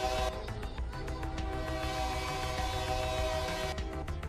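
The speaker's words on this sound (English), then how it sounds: "these diesels get pretty dang strong at slow speed" A diesel locomotive in the RailRoader game runs at slow speed, with a steady, dense rumble and hum throughout and a sustained horn-like tone layered over it, no talk.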